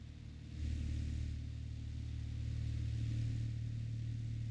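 A vehicle engine runs at a steady idle in a 12vs12 ranked match on the Zarichne map. It is a constant low hum that swells slightly after the first half-second and then holds, with no other sounds over it.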